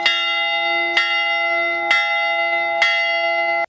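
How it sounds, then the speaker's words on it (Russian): A large church bell tolls four times at an even, slow pace, each strike ringing with a long sustained hum that carries into the next, during a Victory Day commemoration. "75 ударов колокола."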